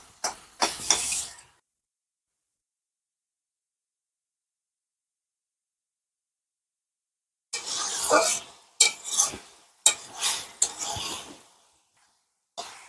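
Mustard greens being stir-fried in a pan, heard as a short burst of stirring and sizzling at the start, then silence, then several scraping, sizzling stirs in quick succession near the end.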